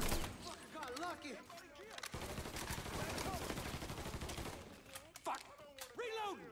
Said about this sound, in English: He's gunning us down!